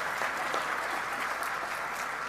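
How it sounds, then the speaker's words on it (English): Applause at a school assembly after a student jazz performance, a brief, even patter of many hands clapping at moderate distance, steady throughout without voices. "can we have a round of applause for our performance this morning for our students?"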